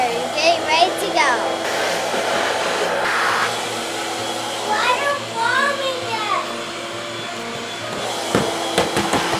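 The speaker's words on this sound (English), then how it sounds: "it's a little loud because we're still blowing them up" Inflatable battle balls being filled by an air blower, a loud, steady roaring whoosh throughout, with children's voices and a few knocks and thumps on top.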